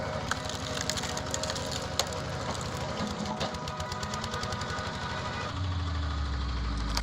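A homemade hydraulic wood splitter working through logs, a steady mechanical engine drone with dense rattling and knocking, continuous and fairly close, with a deeper low rumble rising near the end.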